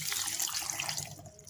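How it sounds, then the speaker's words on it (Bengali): Water poured into a mix of raw mango, black salt, roasted cumin powder and sugar for juice, a short, steady close splashing stream that tapers off near the end. "পানি দিয়ে দিলাম"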